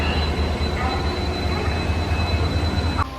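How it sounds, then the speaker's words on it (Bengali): The Howrah Ispat Express pulls away from platform 22 with a steady low rumble of wheels and carriages close by, plus a faint high whine, ending in a brief bump. "6:36 আর আমাদের ট্রেন ছেড়ে দিয়েছে"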